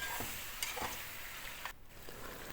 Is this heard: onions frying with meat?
yes